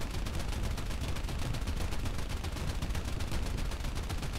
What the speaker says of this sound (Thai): เป็น50 cal เนาะ Browning พอยิงไปเรื่อยๆแล้วควันจะขึ้น